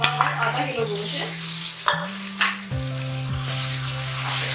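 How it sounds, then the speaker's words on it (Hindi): Mutton frying with garlic-ginger paste in a pot, a steady close sizzle with spoon scrapes and clanks against the metal, and a low cooking hum underneath. "अच्छी तरह गोश्त को भूनना है।"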